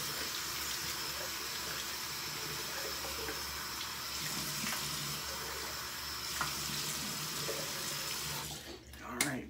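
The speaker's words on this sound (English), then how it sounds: "Let's go ahead and splash some hot water on my face." Water runs steadily from a bathroom sink tap as hot water is splashed on a face before shaving, a continuous close hiss with small splashes throughout.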